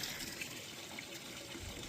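Water pouring steadily into a container outdoors, a constant broadband rushing fill sound with no breaks, fairly faint and alone without talk.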